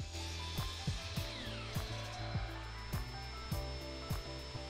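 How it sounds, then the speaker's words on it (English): Miter saw set to a 3-degree angle cutting a wooden dowel, a steady motor hum broken by a regular series of short scraping strokes, fairly faint. "Cut the dowel 3 degrees off on one side."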